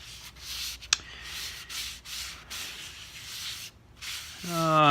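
Sandpaper rubs over an oak burl in short, soft strokes with small pauses and a sharp click partway through, all quiet and close.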